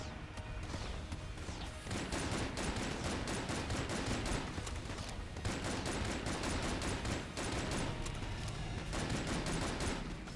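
Rapid gunfire from the bullet-hell game Enter the Gungeon, a dense continuous barrage of shots and impacts that stays loud and busy with only brief lulls.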